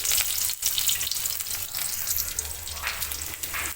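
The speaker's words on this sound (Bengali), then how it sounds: "পেঁয়াজটা এখানে হালকা ব্রাউন কালার করে ভেজে নেব" Chopped onion frying in oil with broken dried red chillies and whole cumin, a steady close sizzle filling the whole stretch with faint stirring scrapes, no voices.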